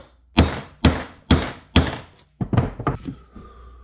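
Metal bushing driver hammered into a TH350 transmission case: four evenly spaced heavy thunks, then a quicker cluster of several more blows, close and loud with short ringing decay.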